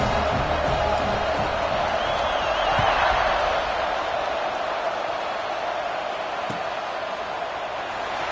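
Football stadium crowd at an NCAA game cheering after a scoring drive, a steady dense roar from thousands of fans that swells slightly mid-way, with a commentator talking over it.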